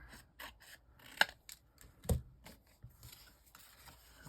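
Scissors trimming paper craft material make a series of short, quiet snips and rustles with uneven spacing, including a couple of sharper cuts, close by and with no talk.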